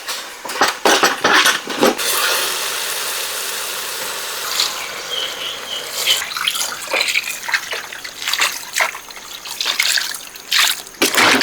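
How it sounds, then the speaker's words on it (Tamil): Water is poured into a pan of masala while cooking a beef nalli gravy, a steady close trickle and splash at first, then lighter stirring and dribbling sounds with scattered clicks, no talking. "தண்ணி ஊற்றி நல்லா மிக்ஸ் பண்ணிட்டோம்."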